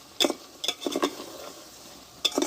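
A spoon scrapes and stirs thick mutton curry masala that is starting to stick to the pan, in several separate strokes with clinks against the metal over a faint background sizzle.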